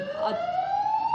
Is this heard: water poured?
no